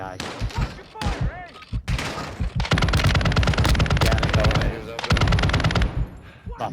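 Rapid bursts of automatic gunfire from AI enemies in Call of Duty Modern Warfare II rattle close and loud in several long volleys, with brief gaps and a player's voice shouting over the shooting.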